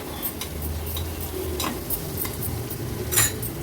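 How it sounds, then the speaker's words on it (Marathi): Onions sautéed with turmeric in a pan on a medium flame, a constant close sizzle under repeated scraping and clinking of a spoon stirring against the metal. "हळद कांद्यात व्यवस्थित परतून घ्यायची आहे"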